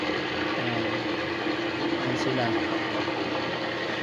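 Industrial sewing machines running in a workshop, a steady dense mechanical whir throughout, with a person talking over it.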